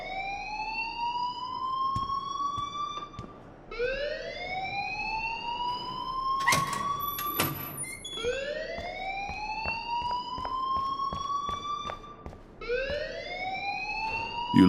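A fire alarm sounds in the Life Is Strange video game, a loud rising electronic whoop repeating every few seconds, steady and insistent with brief clicks and a short high beep partway through.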